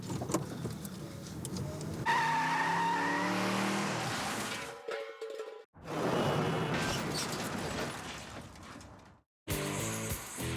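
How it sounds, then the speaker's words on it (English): A car performs a forward handbrake turn on a driving test course, engine revving as tires squeal and skid in two long sweeps, loud and close, with short silent cuts between. "Canada's worst drivers ever have learned how to do a forward handbrake turn"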